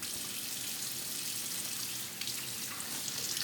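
Steady rush of running tap water splashing into a sink while catfish are rinsed under it, a constant close hiss with no pauses or talking.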